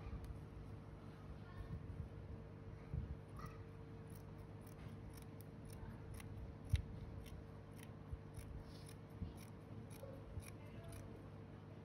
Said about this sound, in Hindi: अब जो है मैं इसको काट के इस कोनों को यूँ सीधा कर दूंगा